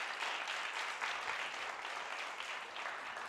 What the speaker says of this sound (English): Please give all of the presenters one more round of applause